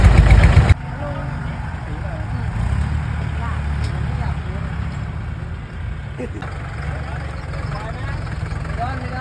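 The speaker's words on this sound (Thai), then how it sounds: "เอารถไถ สองคันดึงข้างหน้าครับ และอีกหนึ่งคัน ดันหลังให้" Steady low engine rumble of three tractors idling and straining to pull and push a stuck cassava truck out of a field, continuous throughout, with faint voices and outdoor noise mixed in.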